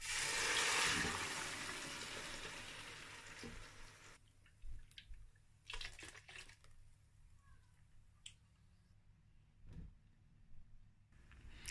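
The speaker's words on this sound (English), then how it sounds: "I'm going to pour my pepper that I blend." Blended pepper is poured from a container into a pot of palm oil on a cooker while making egusi soup. A loud wet pour lasts several seconds, then fades into quieter drips, squishes and faint clinks.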